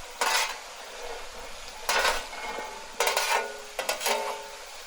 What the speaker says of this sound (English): Let's mix those herbs right into the onions.